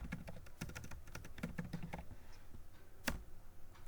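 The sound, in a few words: typing an account number on a computer keyboard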